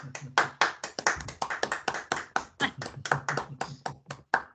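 A small group claps rapidly, a burst of uneven, crisp hand claps that rises and falls in bunches, close and fairly loud.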